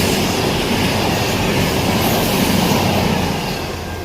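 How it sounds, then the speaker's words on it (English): A train bound for Manchester roars past close by, a loud continuous rumble and rush of wheels on rail that holds steady for several seconds before easing slightly at the end. "It's the train to Manchester."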